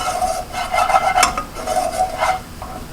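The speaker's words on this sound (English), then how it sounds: "So we're just going to stir it." Simple syrup being stirred for mango sorbet, a close, loud series of scraping, swishing strokes against the pot in an uneven rhythm.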